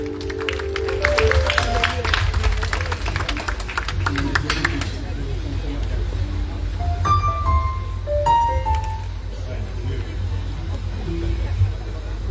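Audience applause greets a music group at an evening tribute event: dense clapping for about five seconds, then thinning into crowd murmur as tonal music or feedback notes rise over it.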